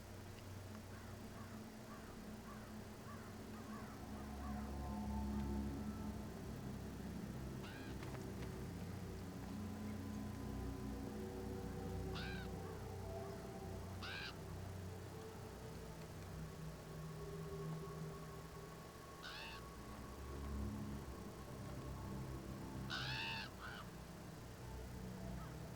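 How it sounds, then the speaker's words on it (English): Crows caw in scattered short bursts over a low rumbling battlefield ambience in the WWII strategy game Company of Heroes, faint and fairly distant. "So I guess crows really like eating tank pieces."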